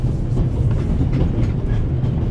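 A passenger train rolls along its rails with a steady, loud, low rumble and faint rhythmic clatter, with no voices over it.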